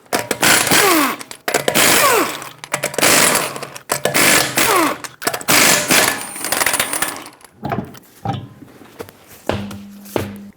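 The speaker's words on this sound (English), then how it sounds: "With a 19mm socket, remove the 5 lug nuts that hold the wheel on and remove the wheel." An impact gun on a 19mm socket spins lug nuts off the rear wheel of a 2018-2024 GMC Terrain. Several loud, close buzzing bursts of a few seconds each are separated by short pauses and followed by a few quieter clanks, with no one talking.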